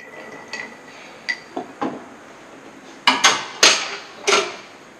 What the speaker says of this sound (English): And then we chill the drink by stirring, and also dilutes a little bit the drink